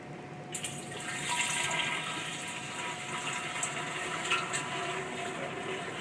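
Sanitizer liquid is poured into a beer keg, a close, steady rush of falling and splashing liquid lasting several seconds.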